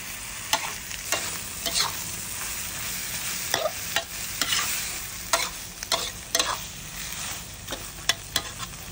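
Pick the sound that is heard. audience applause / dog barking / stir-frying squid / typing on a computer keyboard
stir-frying squid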